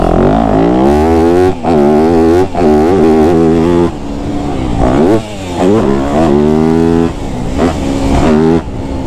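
A 2025 Yamaha YZ250F dirt bike engine revs repeatedly and loudly up and down, with brief dips between climbing, buzzing pulls, heard close and alone.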